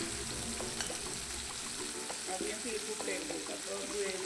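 Ivy gourd (kovakka) frying in hot oil, a steady close sizzle across the whole stretch, with light scraping and stirring sounds on top.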